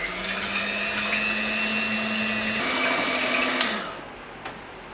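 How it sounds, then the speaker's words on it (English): Electric hand beater whirring steadily through wet cake ingredients in a Tokyo home kitchen, a sustained close motor hum that shifts pitch once partway through before cutting off, with no talk. "Now I'm going to use an electric beater to beat together the wet ingredients."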